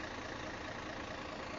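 The engine of a large tanker truck runs steadily, a constant loud, low rumbling drone close by with no pauses and no voices.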